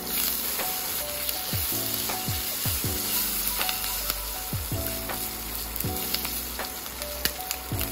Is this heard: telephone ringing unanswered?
no